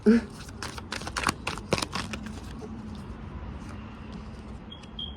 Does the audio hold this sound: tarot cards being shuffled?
yes